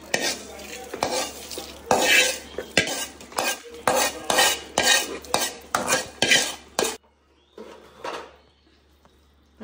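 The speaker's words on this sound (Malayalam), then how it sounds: "നമുക്ക് വറുത്തിട്ടാക്കോട്ടെ." Jackfruit curry tempering stirred and fried in a pan, with a run of loud, rhythmic utensil scrapes and clatters over a steady sizzle, then a pause and a few fainter stirs near the end.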